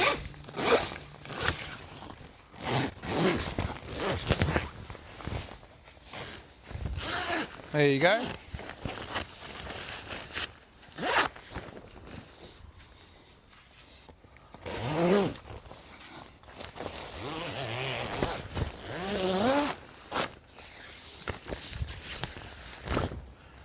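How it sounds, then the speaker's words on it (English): Zips on the walls of a caravan awning wall kit are pulled open, with several short zipping rasps and rustling fabric in a quiet outdoor setting while someone talks throughout. "grab the zip"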